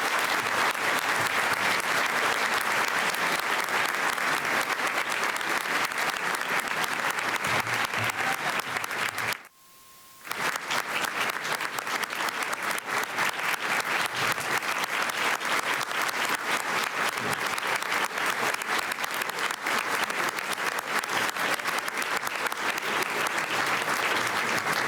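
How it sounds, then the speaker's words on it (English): A large audience at a Forum Club event gives sustained, loud applause for founding members, dense steady clapping that fills the room for about twenty-five seconds with one brief break midway. "Please, a huge round of applause for our founding members."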